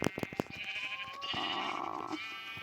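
A video game sheep bleats in a wavering, fairly close call that holds for about a second, after a few sharp clicks and thuds of in-game action.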